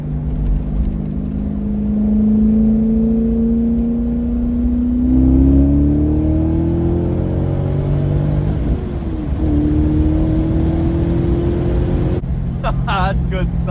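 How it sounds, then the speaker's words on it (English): Chevrolet Corvette LS V8 breathing through a cheap aftermarket exhaust, pulling hard in second gear: a loud, steady, rising engine drone that climbs in pitch over several seconds, then drops off near the end. "I'm going to do a nice little second gear pull right here."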